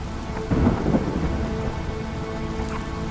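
Video game audio: steady heavy rain pours throughout, with a low rumble of thunder swelling briefly near the start; no one speaks.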